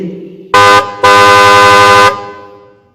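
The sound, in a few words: car horn honking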